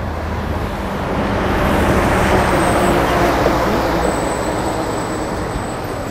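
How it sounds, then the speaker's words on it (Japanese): Heavy road traffic roars continuously near Tomakomai port, a dense, steady wash of passing cars and trucks swelling slightly in the middle, with a faint high whine above it and no talking. "車すごいな、ここ。"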